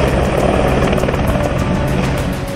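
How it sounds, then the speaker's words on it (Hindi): An Indian Army Dhruv helicopter flies over a tri-service commando drop exercise at Pokhran, its rotor and turbine roar loud and steady throughout with a faint rhythmic blade chop. "दूसरा ध्रुव हेलीकॉप्टर थल सेना, वायुसेना और नौसेना के कमांडोज को ड्रॉप करता है"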